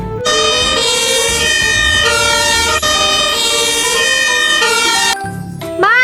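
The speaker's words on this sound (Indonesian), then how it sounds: "ada mobil unit pemadam kebakaran" A toy fire engine plays a loud electronic siren, a steady wailing, tinkling tone that runs for about five seconds, then cuts off into a few short chirps and clicks.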